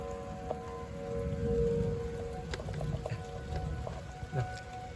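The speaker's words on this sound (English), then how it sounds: "it's starting to pour down rain" Steady rain pours down outdoors during a storm with tornado sirens, a broad continuous hiss with scattered drips and patters close by, carrying on without pause through the whole stretch.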